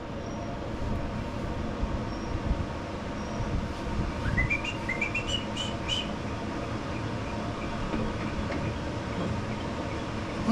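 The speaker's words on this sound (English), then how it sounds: "They are chirping away this morning." Birds chirp outdoors in the morning, a quick rising run of tweets standing out over a steady engine-like rumble near a 42-inch Ariens riding mower with a 20hp Briggs V-twin.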